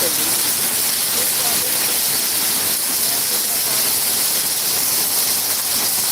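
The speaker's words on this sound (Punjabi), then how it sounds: "ਦੇਖੋ ਬਹੁਤ ਤੇਜ਼ ਮੀਂਹ ਆ" Heavy rain pours in a constant, loud hissing roar, unbroken from start to finish with no pauses.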